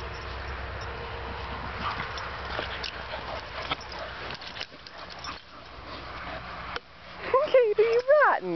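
Two dogs play rough as one pins a puppy down, with scuffling, snuffling and low grumbles followed by high whimpering yelps near the end, while a person talks throughout.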